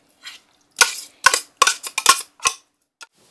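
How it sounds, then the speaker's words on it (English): Tuna from four cans being stirred in a bowl with a homemade sauce, heard as a series of short clinking scrapes of a utensil against the bowl in irregular bursts, close and fairly loud, with no talking. "Okay, give that a good mix."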